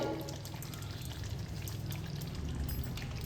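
A spoonful of ghee poured into a simmering Bengali potato curry, a brief soft liquid pour over a low bubbling background, close and without voices.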